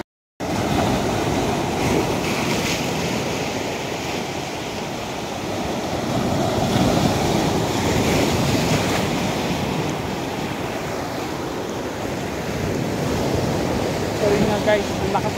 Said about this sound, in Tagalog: Hindi ko akalain na ang lakas pala ng alon.